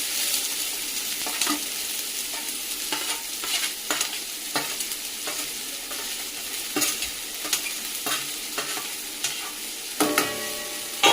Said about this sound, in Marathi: कांदा एकदा परतून घेतला, हा एवढा फक्त, जास्त पण नाही, थोडंसं तेल थोडं कमीच वापरायचं।